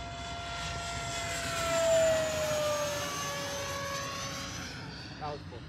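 Jet aircraft engine at full throttle in a MiG flight game, a steady loud roar with a high whine sliding down in pitch, swelling at its peak and then easing off.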